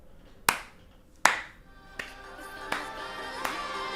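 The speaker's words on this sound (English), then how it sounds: "this is a very slow clap" Slow hand clap: five sharp, isolated claps spaced under a second apart, the first two crisp and loud, the later ones softer over a faint room hum.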